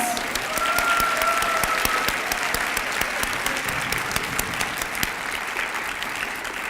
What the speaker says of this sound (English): A round of applause for us.